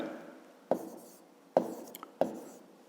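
A pen writes a math answer on paper: three sharp taps spaced about a second apart, each trailing into short scratchy strokes, close and quiet with no voices.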